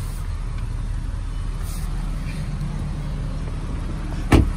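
A healthy five-cylinder car engine idles steadily with a low, even rumble throughout, with a brief louder knock near the end.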